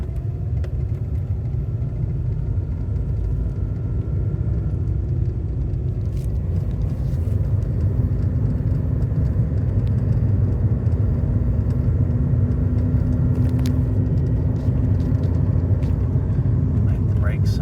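Car on the road after a P0572 brake switch code repair, a low steady engine and road rumble continuing under a voice with occasional faint clicks.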